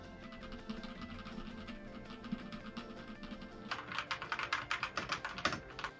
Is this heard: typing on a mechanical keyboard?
yes